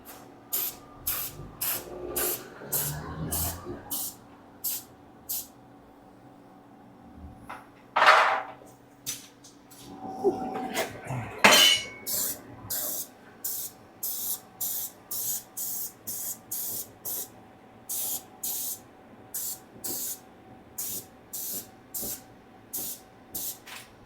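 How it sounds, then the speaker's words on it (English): Rust-Oleum aerosol spray paint can with an adjustable sprayer, hissing in a long run of short, regular bursts with pauses, close by, with a few louder handling sounds early on during Jeep TJ body work. "These Rust-Oleum cans, they have this adjustable sprayer."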